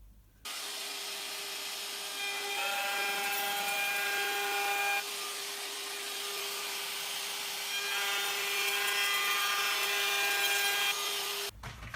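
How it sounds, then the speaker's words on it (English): A router fitted with a bearing-guided roundover bit whines at high speed while trimming the front edges of a bamboo kitchen worktop in a Mercedes Sprinter camper, loud and close, with cutting pitch shifting between passes before cutting off. "I'm going to run the edge of all of the fronts of the work surface with this router"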